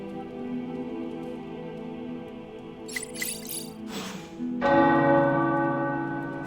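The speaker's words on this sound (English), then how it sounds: "The tower bells are ringing." Deep tower bells in the video game Marvel's Midnight Suns ring out with sustained, overlapping tones, swelling louder midway and lingering as a resonant wash; no voices.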